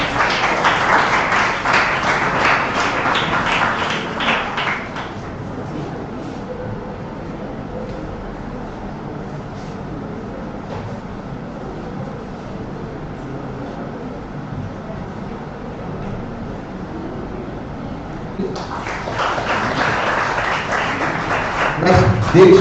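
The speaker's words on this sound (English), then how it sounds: "Give them a round of applause, children." Children in an audience at an urban lake symposium clap together in two loud bursts of applause, one at the start and another near the end, separated by a long stretch of quieter room murmur.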